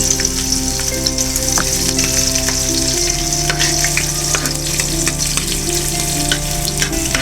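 Chopped onions frying in hot oil with mustard seeds, cumin and urad dal for a spinach and moong dal dish give off a loud, steady crackling sizzle, with occasional scraping stirs throughout and no talking.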